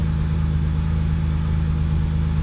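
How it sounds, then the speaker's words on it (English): BMW E30 engine idling steadily just after a Link Atom ECU install, a loud, even low rumble with a constant pulsing beat and no change in speed, heard close up with no voices. "Engine idle speed is pretty reasonable."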